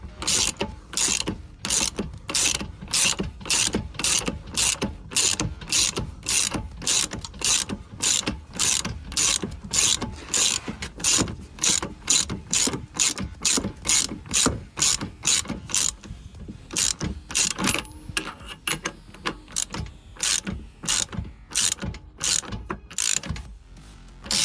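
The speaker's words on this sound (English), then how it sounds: "socket on a ratchet." A ratchet turns a 27mm socket on a Ford Fiesta axle bush bolt, its pawl clicking in a long, steady run of rapid, close, loud strokes, with the rhythm loosening slightly toward the end.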